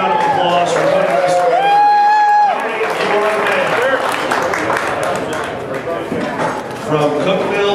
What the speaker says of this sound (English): Let's give Tony Stone another big round of applause for putting this